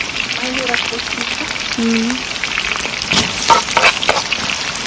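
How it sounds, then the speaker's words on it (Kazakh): Onions frying in a large amount of oil give a loud, steady sizzle with scattered stirring clatters, and a voice talks briefly over it early on. "Мынакей азыр пиязды кууруп жатабыз"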